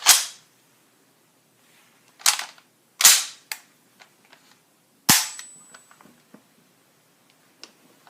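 M1 Garand rifle firing .30 caliber rounds, four loud sharp cracks spaced a second or two apart, each with a short echoing tail, followed by faint clicks and small knocks.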